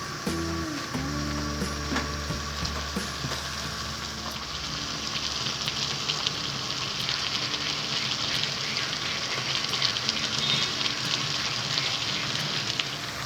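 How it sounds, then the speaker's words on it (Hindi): Grated carrots cooking down in milk for gajar ka halwa give a steady, close, bubbling sizzle that runs evenly throughout, with a low hum underneath for the first few seconds. "दूध खुश्क होने तक गाजरों को पकाएंगे।"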